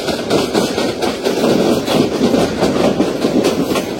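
The Mohanagar Godhuli Express rolls toward Dhaka and picks up speed, heard from on board as a loud, steady rumble with rhythmic clickety-clack of wheels over rail joints throughout.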